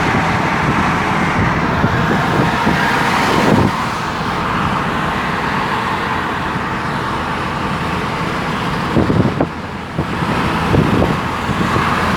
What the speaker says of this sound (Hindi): ट्रैफिक का शोर बहुत ज़्यादा है